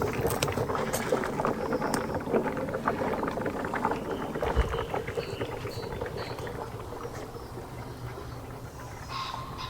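A gurgling, bubbling suction noise as an oil extractor pump draws air and engine oil during an oil change, with scattered clicks and rattles close by.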